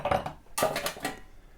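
A set of brass shot glasses clinks as it is unpacked from a parcel: a short metallic rattle, a brief pause, then a second, louder cluster of close clinks that fades out.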